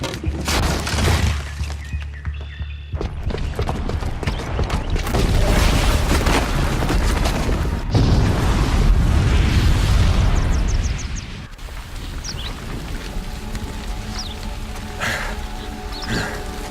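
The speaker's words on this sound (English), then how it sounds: "the booby trap on the bomb downstairs is gonna get set off" A booby-trapped bomb detonates in Horizon Zero Dawn with a loud, roaring explosion. Rumbling debris and crackling shatter follow, then the noise settles into quieter rumble and scattered game sounds.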